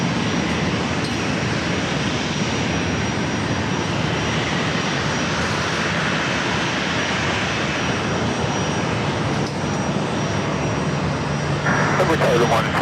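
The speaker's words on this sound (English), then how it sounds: "Up next is Southwest 737-700." A Southwest Boeing 737-700 at San Diego airport, its jet engines roaring as a loud, steady broadband rumble that holds through the whole stretch, with a brief higher whine near the end and talk mixed underneath.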